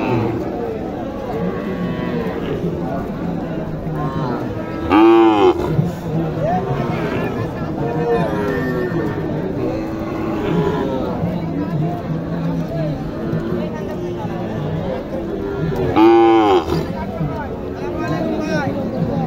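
Cattle low in deep, drawn-out moos at a crowded livestock market in Naogaon district, Bangladesh, two loud calls standing out over steady chatter and the murmur of people talking nearby.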